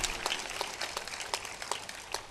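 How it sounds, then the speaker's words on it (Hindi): Scattered applause from an audience gathered at a village religious discourse, light and fairly sparse claps running steadily throughout, a little distant and fading unevenly. "ताली बजा दो इनके लिए।"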